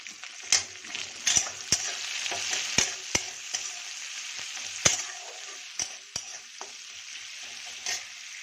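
Onion and green chilli frying and sizzling in a pan, with a steady hiss broken by repeated sharp scrapes and taps of a utensil stirring, close and fairly loud, no talking.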